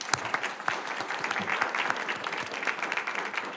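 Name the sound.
applause for candidates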